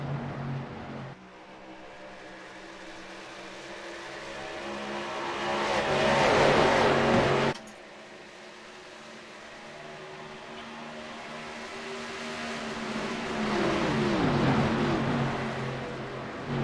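Race cars roar around the oval at Chicagoland in an iSCAR Bronze Series sim race, engine note swelling as a pack passes near, dropping abruptly, then building again in a second sustained pass with no talk.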